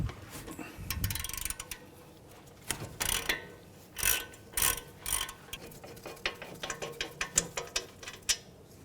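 Ratchet wrench working on the 19mm caliper bracket bolts of a Honda Odyssey's front brakes, giving close, sharp ratcheting clicks in uneven strokes, with heavier clunks as the bolts break free.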